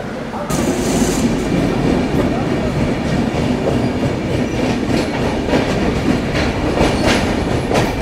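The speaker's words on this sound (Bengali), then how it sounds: "ঠিক 2 মিনিটের মধ্যে আমাদের ট্রেন ছেড়ে দিয়েছে নেলোর স্টেশন থেকে" A passenger express train pulls out of Nellore station, its wheels rumbling and clacking steadily and loudly throughout, with a brief high hiss near the start and faint speech at times.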